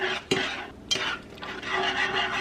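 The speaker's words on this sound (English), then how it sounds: "we'll whisk that in until the lumps are gone" A whisk scrapes and taps in a pan as flour is worked into a sauce over lowered heat, with a couple of sharp metal clicks and soft steady swishing.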